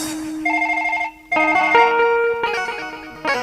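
A phone ringtone sounds in a rural comedy sketch, a bright electronic melody of repeated tones that plays loudly and alone, breaking off briefly before resuming.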